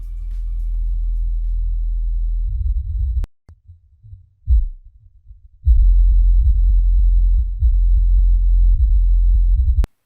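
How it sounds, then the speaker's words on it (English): A low, booming bass line plays alone in long sustained notes, broken by a brief gap and a few short, punchy hits before resuming. "So if you play the first track, that is the bass, it will sound like this."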